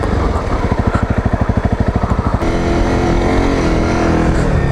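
A Honda CRF 250 Rally motorcycle riding in first gear through a forest, its engine throbbing in a fast, even pulse close by, then smoothing into a steadier, louder drone.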